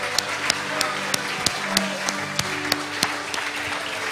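A church congregation applauding during a worship service, heard as a steady, even rhythm of loud claps about three per second under chanting voices.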